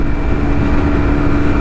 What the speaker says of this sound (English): I'm into the red on the revs.